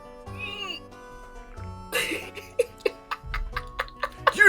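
A man imitates a cat, making several high, wavering meows with his voice, followed by bursts of laughter and chuckling close up.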